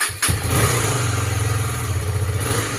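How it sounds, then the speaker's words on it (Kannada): A KTM Duke 250 motorcycle cold-starts near by: a brief starter crank, then the engine catches into a loud, even, throbbing idle that holds steady. "ಒಮ್ಮೆ ಕೋಲ್ಡ್ ಸ್ಟಾರ್ಟ್ ಮಾಡುವ ಅಂತ."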